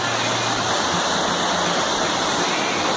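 Waterfall at Cachoeira do Arruda, a steady, close, full roar of falling water that stays constant throughout with no voices.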